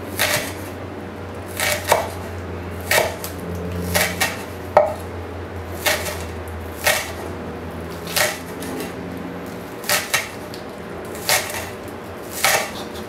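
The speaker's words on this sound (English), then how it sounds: "we'll start just chopping it into little pieces" Steady knife chopping green onions on a cutting board, a dozen or so crisp thuds in an uneven rhythm, close and clear with no talking.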